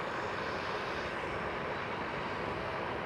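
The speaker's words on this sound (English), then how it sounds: "the American Airlines 787 is leaving." An American Airlines Boeing 787 jet departs Schiphol Amsterdam, a steady broadband engine roar holding constant and fairly loud throughout, with no voices present.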